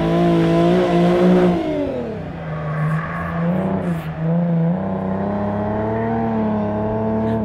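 A V6 sports car, a Nissan 370Z or an Infiniti G37 S Coupe, drives hard. The engine revs rise and fall loudly and close, with rising pitch sweeps and a brief dip before it pulls steadily again.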